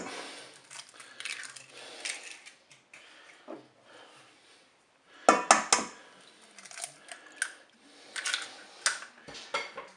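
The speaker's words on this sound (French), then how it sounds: "On bat les œufs" Eggs beaten by hand in a bowl for a coconut cake, a faint run of quick clinking, scraping strokes that comes in bursts with short pauses, louder near the middle.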